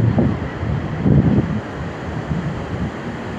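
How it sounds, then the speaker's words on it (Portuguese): Surf washes onto Praia do Ruínas in Peruíbe after a storm swell, with gusting wind buffeting the microphone. Two louder wave surges come and go against a steady low roar, and nobody speaks. "Olha o mar como é que tá hoje."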